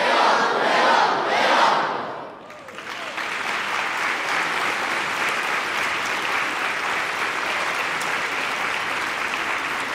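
A boys' choir at its 20th anniversary celebration shouts a hurrah for its conductor, a loud crowd cheer that fades, then a long wash of sustained applause and cheering fills the hall.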